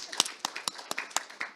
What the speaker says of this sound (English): I think we should applaud that